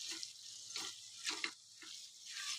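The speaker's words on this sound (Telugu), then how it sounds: "వాటర్ అనేది యాడ్ చేద్దాం." Water splashes in several short pours into a pan of kandi ginjalu curry, quiet and close with a brief gurgle in each burst and no talking.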